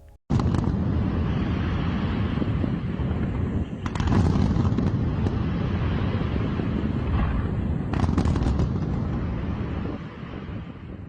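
Fireworks at a rehearsal for a party's 100th birthday celebration, a continuous loud roar of booming bursts with sharper crackling volleys around four and eight seconds, heard from a distance with wind buffeting the microphone.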